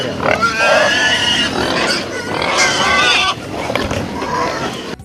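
Wild boars grunt and squeal close by while feeding, overlapping snorts and squeals in a busy, loud outdoor scramble.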